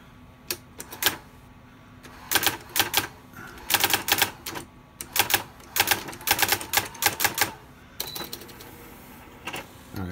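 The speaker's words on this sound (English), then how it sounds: "I just typed typewriter test for eBay, which you can see right here." Brother SX-4000 electronic typewriter typing in close, crisp bursts of rapid key strikes, with short pauses between runs of letters and a steady low mechanical hum underneath.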